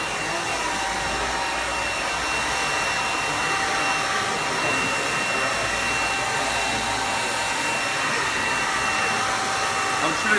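A handheld hair dryer without a nozzle blows steadily for the whole stretch, a loud, even whoosh with a constant motor whine, running at a barbershop during a blow-out fade.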